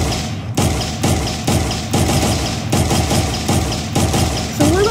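Rapid gunfire from a first-person shooter built in Unreal Engine 4: loud, close shots in a steady burst of about ten evenly spaced reports over five seconds, with no talking.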